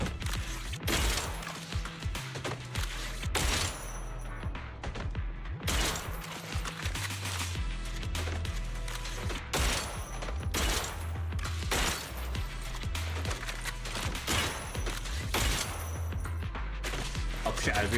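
Rapid gunshots in Zenless Zone Zero combat, a steady stream of sharp bursts and impacts over a pulsing game soundtrack, continuing for the whole stretch.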